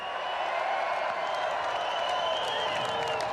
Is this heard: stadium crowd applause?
yes